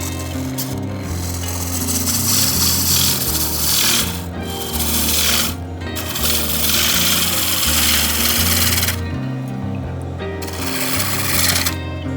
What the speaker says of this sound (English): I finish with some very light cuts, again with a sharp gouge.